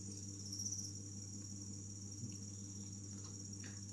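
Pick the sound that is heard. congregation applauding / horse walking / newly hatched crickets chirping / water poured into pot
newly hatched crickets chirping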